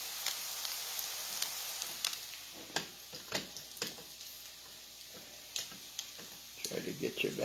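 Salmon patties frying in a pan give a quiet, steady sizzle with small crackles and pops scattered through it, heard close and alone.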